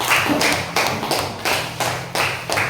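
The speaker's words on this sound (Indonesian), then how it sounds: "Kasih dulu tepuk tangan." Children in a classroom clap their hands in unison, a sharp rhythmic series of about six close, loud claps evenly spaced under a second apart.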